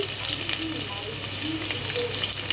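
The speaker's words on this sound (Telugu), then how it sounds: "సన్నగా కట్ చేసిన ఒక మీడియం సైజ్ ఉల్లిపాయ రెండు పచ్చిమిర్చిని అయితే తీసుకొని ఇవి బ్రౌన్ కలర్లో వచ్చే వరకు ఫ్రై చేసుకుంటానండి" A thinly sliced medium onion and two green chilies fry toward brown in a pan, giving a continuous, loud, close sizzle with light stirring throughout.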